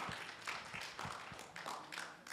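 A church congregation applauding after a sermon prayer, a faint, steady patter of many hands clapping together, heard from a distance.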